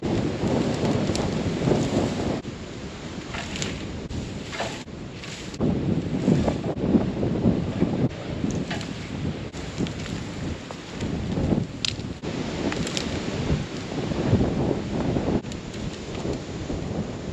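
Strong wind gusting outdoors on a farm, blasting across the microphone in a steady low roar that swells and eases, with occasional rattles, for the whole stretch and no talking.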